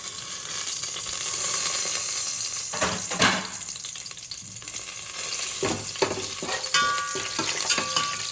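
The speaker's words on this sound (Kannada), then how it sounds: "ಎಣ್ಣೆ ಕಾದಿದೆ ಗೀ ರೈಸ್ಗೆ. ಅವಲ್ಲಿ ತೋರಿಸಿದ್ನಲ್ಲ, ಗರಂ ಮಸಾಲ ಹಾಕ್ತಾ ಇದ್ದೀನಿ." Garam masala spices hitting hot oil for ghee rice, a steady close sizzle with bursts of stirring and scraping in the pan, no voices.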